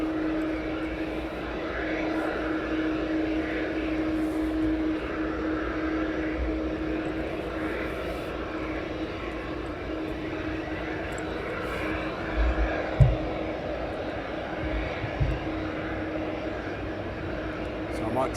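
MNG cargo airplane taxiing at East Midlands Airport, a low steady engine drone heard from a distance at moderate level, with a few faint thumps toward the end and outdoor ambience around it.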